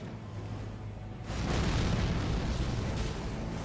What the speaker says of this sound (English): That's some cool explosion noises you got there, Messmer.